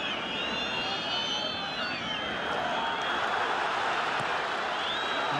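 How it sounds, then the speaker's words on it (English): A stadium crowd at an AFC Champions League football match between Al Faisaly and FC Nasaf keeps up a constant roar of cheering and chanting, broad and distant, with whistle-like tones drifting above it. "the crowds playing their part with the vocal support"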